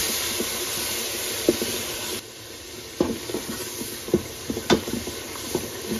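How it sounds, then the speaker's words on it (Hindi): Turmeric and ground chillies roasting in a hot pan, a steady close sizzle broken by scraping stirring strokes, with louder spoon clicks near the end. "इसमें थोड़ी सी भुनाई करेंगे मसाले की"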